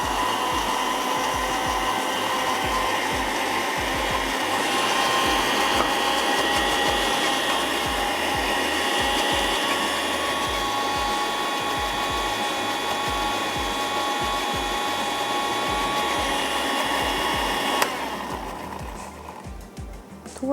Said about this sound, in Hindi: साथ ही ऐड कर देते हैं पानी और करेंगे अच्छा सा ब्लेंड